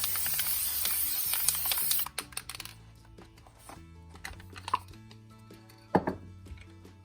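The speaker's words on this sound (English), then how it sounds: "I'm going to throw some matte fixative down. I should really not spray this indoors." A loud, steady aerosol spray of matte fixative hisses from a can indoors for about two seconds, then stops, followed by light clicks and handling taps.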